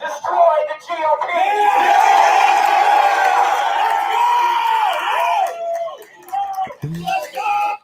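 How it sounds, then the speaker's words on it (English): Crowd of angry young men at a MAGA march in Washington, D.C., screaming and bellowing together in a loud, sustained roar that fades into scattered shouts and yells near the end. "there's a crowd of like angry white boys that are screaming"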